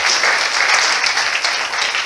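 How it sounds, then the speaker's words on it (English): A Sunday morning church congregation applauds a family's arrival, a loud, dense, even wash of many hands clapping at once throughout. "Let's give them a round of applause"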